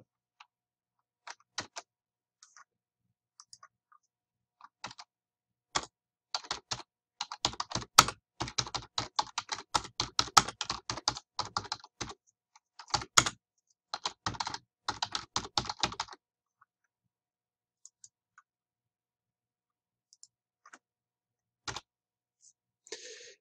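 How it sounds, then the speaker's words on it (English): Computer keyboard typing, soft and close, with sparse keystrokes at first, then a dense run of quick taps, and a few isolated clicks afterward in an otherwise quiet room. "So I'm going to go in and type my own definition here."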